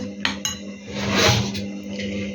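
Minced meat for chopped cutlets being mixed in a bowl, with soft squelching and a couple of sharp clinks of a utensil against the dish, fairly quiet and close.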